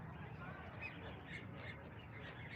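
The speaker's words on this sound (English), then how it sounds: "They're feeding the ducks over there, and it looks like there's hundreds of them." Hundreds of ducks being fed: a dense, continuous chorus of overlapping quacks and calls from a large flock, moderately distant and steady.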